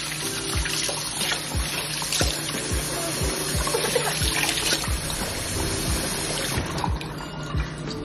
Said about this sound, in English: I'm gonna wash our hands off.